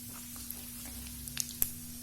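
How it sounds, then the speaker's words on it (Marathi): Cumin, mustard and fennel seeds sizzle in hot oil, a faint continuous crackling hiss with a few sharp pops and spits near the end, under a steady low hum. "जिरं छान तळतळायला लागलं सोप पण फुलून वरती आलेली आहे"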